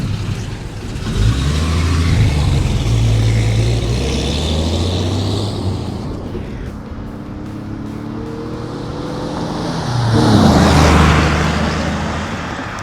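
A 1959 Chevrolet Apache pickup truck engine roars loudly as it accelerates, fades, then surges again as it rushes past close by, with wind buffeting the microphone.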